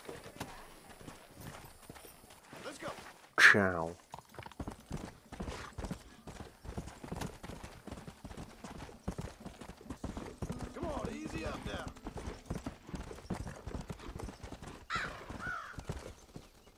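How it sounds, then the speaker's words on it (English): Rapid rhythmic hoofbeats of a galloping horse in Red Dead Redemption run throughout, with a whinny early on and someone talking briefly over the steady clip-clop. "So I'm gonna grab this horse."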